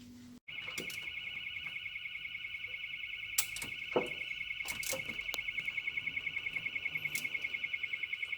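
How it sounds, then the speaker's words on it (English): Electronic alarm beeping continuously across the road, a steady pulsing tone in the background, faint and distant, with occasional clunks of work on a Peugeot Expert engine nearby. "Apologies for the alarm in the background, it's going off over the road."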